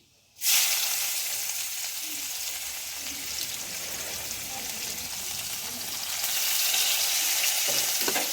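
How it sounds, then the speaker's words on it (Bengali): Thinly sliced onions fry with five-spice seeds in oil in a home kitchen pan, a steady close sizzle that starts abruptly and swells slightly toward the end, with occasional stirring scrapes. "পেঁয়াজটা একটু ভাজা হয়ে গেলেই দিয়ে দেবো টমেটোটা"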